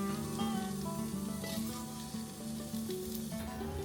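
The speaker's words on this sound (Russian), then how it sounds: "Жареный батат с луком, чесноком и курочкой." Sweet potato frying in a pan with onion, garlic and chicken in a small wooden cabin. It sizzles steadily and close up, with a few light stirring clinks and no voices.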